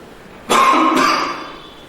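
A single harsh cough bursts out close by, followed by a brief second push, then fades to quiet.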